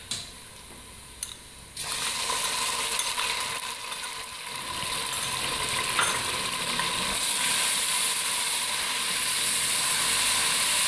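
A loud, continuous sizzle of garlic ginger paste frying with browned onions in a hot pan builds after a moment, with occasional clinks and stirring, and no talking.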